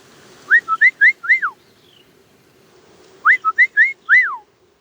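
A person whistles an imitation of a northern bobwhite, giving two bursts of quick rising and falling whistled notes, close and clear with a pause between them.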